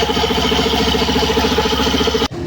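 A Suzuki Burgman Street EX 125 scooter with an abnormal CVT belt noise runs close up, a steady rough mechanical drone with a rhythmic knocking chatter, loud and continuous, cutting off abruptly near the end.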